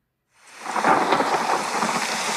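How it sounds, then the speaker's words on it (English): Heavy rain pours down steadily with a deep rumble of thunder rolling underneath, starting abruptly and staying loud. "Now it's raining."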